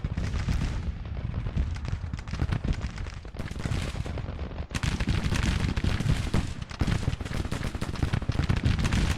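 Musket volleys crackle against skirmishers in a Spring 1863 Union campaign battle in the video game Grand Tactician, a dense, continuous rattle of overlapping shots with heavier bursts, loud and unbroken throughout.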